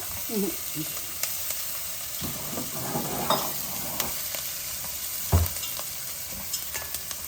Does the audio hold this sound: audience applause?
no